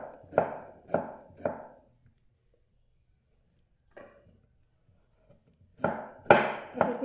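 A knife chops vegetables on a board in short bursts: three quick close strokes, a lone faint one, then another quick cluster, with quiet gaps between.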